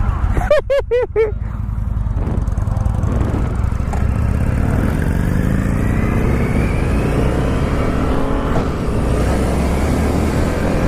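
A 2019 Indian FTR 1200 S motorcycle rides along, its engine producing a loud, continuous low drone with rising and falling pitch as it accelerates; a brief burst of voices comes near the start.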